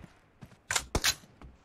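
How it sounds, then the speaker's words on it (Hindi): A weapon is reloaded during a PUBG team deathmatch, heard as a short series of mechanical clicks and clacks, two of them louder and closer together, with faint background sound and no speech. "रीलोडिंग"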